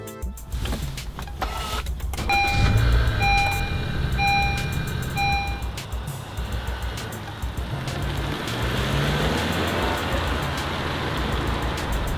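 A 2015 Honda Fit EX-L, a tall boxy hatchback, cruising on the road with steady broadband road and engine rumble; a few short tonal chimes sound early, then a constant interior drone with no talking.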